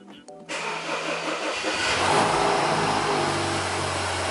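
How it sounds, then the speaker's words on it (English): A BMW F30 sedan that has sat unused for about two weeks cranks briefly, then catches and settles into a steady, loud engine run close by, with a low rumble that builds slightly and holds. "Then you basically just start up the car."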